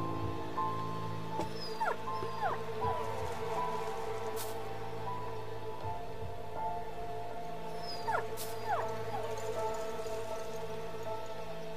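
An injured dog in a video game whimpers and yips, several short rising high-pitched whines scattered across the stretch over a quiet ambient game hum, with no talk.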